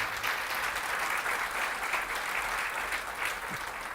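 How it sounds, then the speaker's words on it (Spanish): Sustained applause from a large church congregation, steady and even throughout, with no pauses. "Dale un aplauso a Dios por eso"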